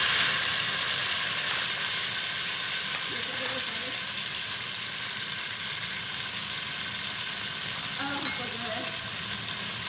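Tomatoes sizzling and frying in a karahi for chicken karahi gosht, a steady broadband hiss running throughout the clip with faint stirring clinks midway and near the end.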